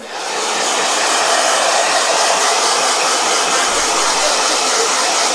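A blow dryer runs in a painting session, drying paint on a model dinosaur, a loud steady airy roar that starts at once and holds evenly throughout, with no voices.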